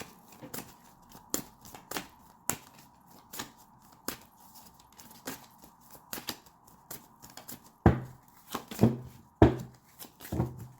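Tarot cards being shuffled close up, with irregular sharp riffles and slaps and a few louder bursts toward the end over a faint steady hum.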